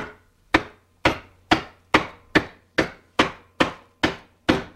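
Clamped aluminum sheet for a scratch-built metal aircraft being hammered into a bend: eleven loud, evenly spaced thwacks about half a second apart, each ringing briefly, close and with no voices.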